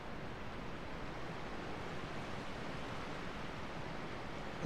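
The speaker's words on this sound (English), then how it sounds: "It's water." Ambient water in Dark Souls 2, a steady broadband wash like surf or a waterfall, constant and even throughout with no other distinct sounds.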